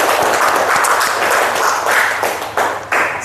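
A classroom group gives a burst of dense applause from many hands, loud and close, holding steady for a few seconds with brief dips near the end.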